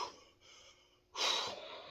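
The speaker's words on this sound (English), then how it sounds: "Obviously, you can tell from my breathing" Heavy, labored breathing from a man in roughly 40-degree water during a cold plunge, with quieter breaths giving way to a loud, sharp gasping exhale near the end, close to the mic with no talking.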